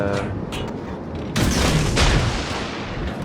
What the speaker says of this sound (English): So when they started turning away, I opened up my guns